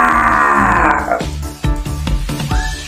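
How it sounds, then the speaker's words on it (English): A loud, drawn-out roar with a rough, groaning tone, followed by several deep, heavy rumbling grunts at a slow, irregular pace. "L-I-O-N. Lion. It sounds like this."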